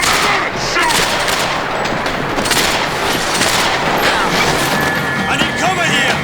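Dense, continuous volleys of gunfire in the video game Max Payne 3 during a shootout with police: loud, chaotic bursts and crashing impacts that run without pause through the whole stretch, with shouting voices mixed in.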